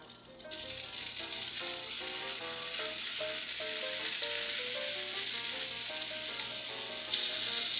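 Butter sizzling on a 1980s West Bend electric griddle, a loud, steady frying hiss that starts abruptly and holds evenly for several seconds, with faint tonal hum beneath.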